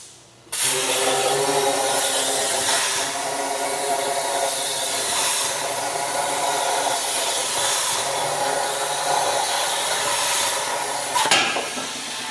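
XR6/XR12 rotary cutter slicing a part for a 4-inch square stabilizer with coolant running, giving a steady loud hissing cut that starts abruptly and holds for over ten seconds.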